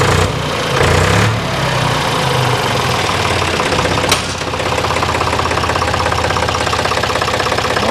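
A Deutz three-cylinder diesel engine runs at a steady idle with a continuous knocking rumble, close and loud, with a single sharp click partway through.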